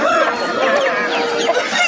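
At a rural poultry market, a rooster crows loudly and close by in one long call, with clucking from other fowl mixed in.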